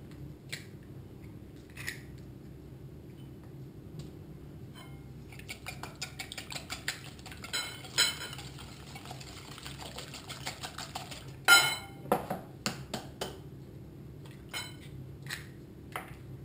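Sugar and eggs whisked in a bowl: a steady run of quick, light clicking and scraping strokes, soft at first then busier and louder, with a few sharper clinks against the bowl and no talking.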